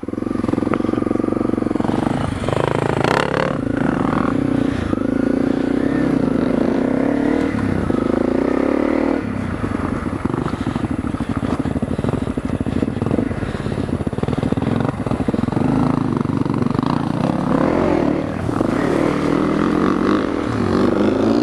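A steady, loud engine drone from dual-sport motorcycles, a Honda CRF250L and a Husqvarna TE250, riding nearby, with shifting revs and occasional throttle rises throughout.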